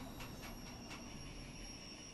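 A London Underground Bakerloo line train braking in Train Sim World 5, a steady low rumble of the cab with a faint high brake whine on top.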